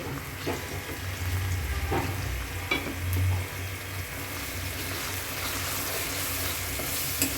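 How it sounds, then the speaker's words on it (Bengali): Ground spices, salt, garam masala, coriander powder, green chilies, bay leaf and chopped tomato frying in a pan for chicken kabsa, with a steady sizzle and intermittent stirring scrapes close by. "এখন গুঁড়া মশলা দিব, লবণ, গরম মশলার গুঁড়া, ধনিয়ার গুঁড়া, কাঁচামরিচ, তেজপাতা, টমেটো কুচি।"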